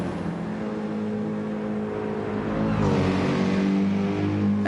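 GT race cars, including a Porsche, a Mercedes and a Clockwork Motorsports BMW, howl past at speed in qualifying at Bathurst, a steady close engine drone that swells louder as another car nears in the second half.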